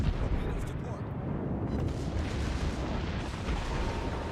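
Main gun salvo from the battleship Missouri in a naval warfare game, a heavy booming blast that rumbles on in a dense low roar, with someone talking over it.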